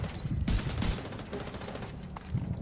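Bursts of rapid gunfire ring out at snipers in the video game The Division 2, loud close shots in two clusters with a lighter burst near the end.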